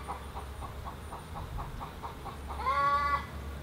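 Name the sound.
bird, likely chicken, clucking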